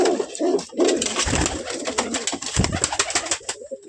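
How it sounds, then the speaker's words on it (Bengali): Pigeons leaving their coop coo in soft, throaty bursts close by, several birds overlapping in an uneven rhythm with faint wing rustles between calls. "দেখো সব পায়রা বের করা হয়ে গেছে"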